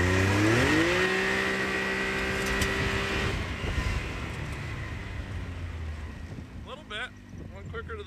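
A Can-Am Maverick X3 Turbo base model accelerating hard from a launch, its engine rising in pitch then dropping away with wind noise, while a voice speaks near the end.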